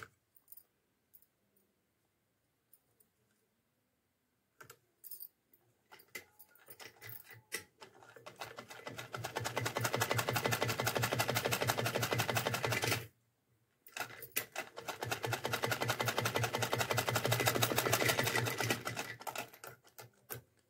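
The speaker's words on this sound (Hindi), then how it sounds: "इसी तरह इसकी सिलाई हम इसी तरह कर लेते हैं।" An electric sewing machine stitches a small Laddu Gopal doll dress in two long bursts of rapid, even needle clatter, separated by a short pause and preceded by a few scattered clicks and handling sounds.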